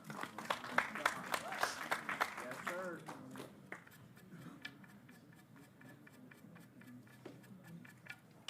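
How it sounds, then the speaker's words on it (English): Crowd applause greets a pot in a pool final between Shane Van Boening and Aloysius Yapp at the 2025 Florida Open, a burst of clapping that fades under a commentator's voice. "Every pot being applauded."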